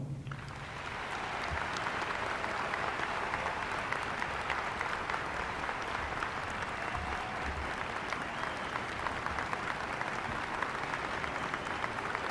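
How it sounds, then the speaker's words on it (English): Sustained applause from a large commencement audience welcoming the speaker, Lieutenant Colonel David Miller, at a Spring 2015 graduation ceremony: a dense, steady wash of clapping that holds evenly for the whole stretch. "The longer you clap, right on."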